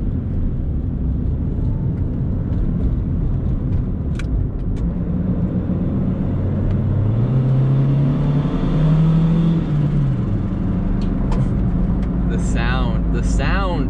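A turbocharged Honda Civic with a D16Y7 engine drones loudly throughout while driven on the street, its pitch climbing and falling in a strong rev midway before settling back to a steady rumble.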